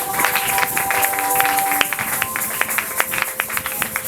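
A church congregation applauds during a spiritual warfare worship service, a steady patter of many hands clapping at moderate loudness with faint crowd murmur.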